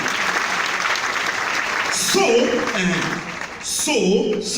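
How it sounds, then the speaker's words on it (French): Audience applause at a speaking event fills the first two seconds as a steady wash of clapping, then fades under a voice that talks over the tail end. "On applaudit."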